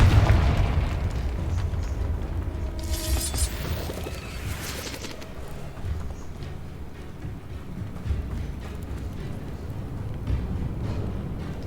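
A Confringo spell is cast in a video game, setting off a deep, booming explosion with a rumbling burst and crackling debris, then a long, roiling low rumble that slowly fades but lingers throughout.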